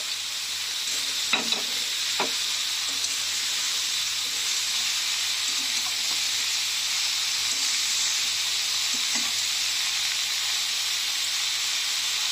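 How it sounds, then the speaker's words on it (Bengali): Bottle gourd and shrimp fry and steam in a pan, a steady broad hiss with a couple of early scrapes of stirring, then mostly an even sizzle. "ভালো করে মিশিয়ে নেবেন।"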